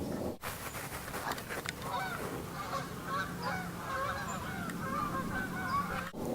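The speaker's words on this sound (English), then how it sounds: "I just saw a flying V of geese." Geese honk repeatedly overhead, a flock calling in overlapping bursts, fairly distant and steady against a soft outdoor background.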